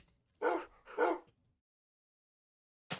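A dog barking in the blocky survival game Minecraft: two short, clear barks close together, then silence and the start of another bark at the very end.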